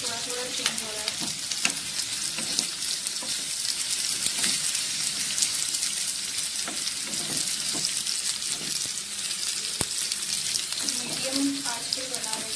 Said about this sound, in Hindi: इसे मुझे फ्राई करना है 5 मिनट तक।